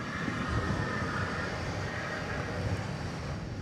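A US Airways airliner at DFW Airport at night gives off a steady, broad jet engine rumble with a faint whine on top. The sound is continuous and moderately loud, with no voices.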